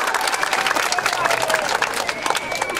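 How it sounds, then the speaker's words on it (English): Outdoor crowd applause and cheering welcoming schools at a homecoming tailgate, with steady clapping and lively crowd noise close by and voices mixed in throughout. "let's give them a great big warm welcome and applause here"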